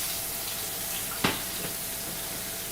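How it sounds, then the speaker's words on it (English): Jersey butter sizzles in a hot pan while beef cooks, giving a steady soft hiss with one sharp clack partway through. "Nice bit of butter into the pan."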